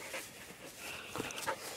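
Heeler cattle dog panting close by, quick soft rhythmic breaths with faint whimpers, quiet and alone.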